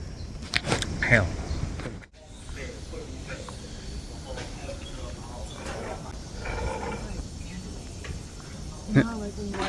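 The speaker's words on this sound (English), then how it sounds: "Those are cicadas, right?" Cicadas droning outdoors in Tokyo near the Tokyo National Museum, a continuous buzzing chorus heard under people talking nearby, with a brief sharp interruption partway through.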